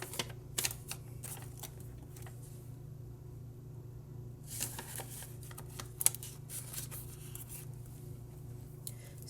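Paper cash bills are counted and stuffed into envelopes, giving soft crisp rustles and short flicking shuffles in scattered bursts, close and quiet over a faint low hum.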